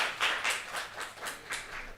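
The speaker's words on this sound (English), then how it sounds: "Round of applause to Rabiul" Sparse applause from an architecture awards audience, a handful of separate claps at a moderately quiet level, each one distinct and following in an even rhythm.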